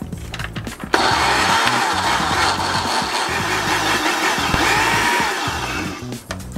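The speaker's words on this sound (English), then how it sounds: "Cover the blender and blend until smooth." An electric blender whirs loudly and steadily as it blends a boozy shamrock shake of ice cream, Baileys and green creme de menthe, starting abruptly after a brief quiet moment and running continuously without talk.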